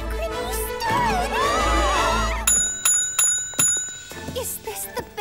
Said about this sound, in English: Is this the bell from her video?